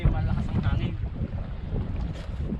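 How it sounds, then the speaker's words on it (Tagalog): Strong wind roars across a small fishing boat at sea, a steady low buffeting rumble of gusts hitting the microphone, continuous and close throughout. "Ang matindi, malakas ang hangin."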